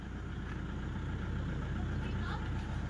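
A 2011 Toyota Fortuner engine runs steadily at close range, heard from underneath the vehicle. A continuous low rumble holds for three seconds without a clear rev rise.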